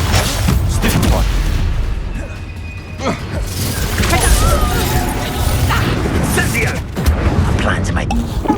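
Spell blasts from Confringo and Bombarda in the video game Hogwarts Legacy, dense booming explosions and crashes layered with game effects and music over about eight seconds, with someone talking throughout.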